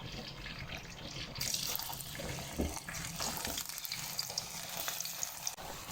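Pakoras fry in hot oil in a kadhai, a soft continuous sizzle and bubbling heard close and fairly quiet, with faint clinks of stirring.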